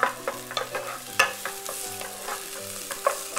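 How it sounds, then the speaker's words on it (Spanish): Onion sizzles in olive oil in a pan as it is stirred, with soft frying crackle and repeated scraping clicks of the spoon close up, and no talking. "Simplemente vamos a cristalizar la cebolla."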